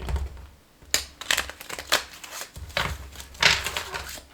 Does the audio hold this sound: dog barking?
no